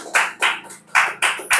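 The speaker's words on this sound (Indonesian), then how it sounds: "Aplaus dulu" A small audience claps in brief uneven bursts at an Indonesian talk show, a few short rounds of hand clapping rising and dropping, close and clear with no talking.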